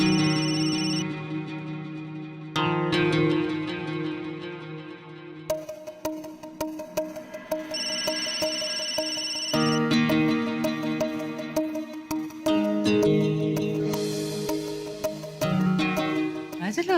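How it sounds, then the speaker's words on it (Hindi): A mobile phone ringtone plays a repeating melodic pattern for an incoming call, loud and continuous throughout. "कुणाचा फोन आहे?"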